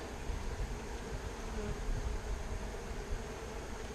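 Honey bees crowd around a queen cage while making a hive split, a dense steady buzzing hum filling the air close by, with no voices.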